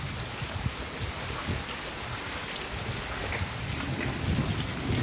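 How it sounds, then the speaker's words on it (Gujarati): Heavy rain pours steadily over open farm fields in Bagasara during an afternoon downpour, with low rolling thunder rumbling beneath the dense hiss, close and continuous with no voices. "અને આમ તમે ખેતરોમાં જોઈ શકો છો વરસાદ ધરબલાટી બોલાવે છે"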